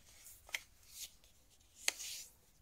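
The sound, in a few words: paper being creased into folds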